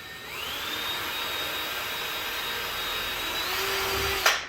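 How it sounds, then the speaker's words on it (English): A high-pitched power drill motor whines steadily, rising as it spins up, holds for a few seconds, then winds down with a click at the end. "very carefully drill through the hole in your template"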